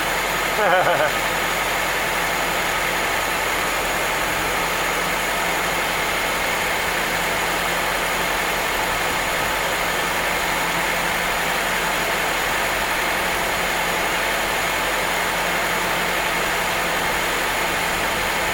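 Old barn-find car engine running after a carburetor clean, a steady, even idle hum held without stumbles, fairly loud and close, with a voice talking over it.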